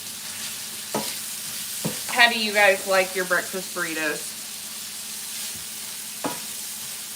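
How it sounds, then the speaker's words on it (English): Ground meat browning and sizzling in a pan while breakfast burritos are made, a soft steady fry under a woman's speech with a couple of utensil clicks. "We'll brown this up, drain the fat, and then we'll make scrambled eggs"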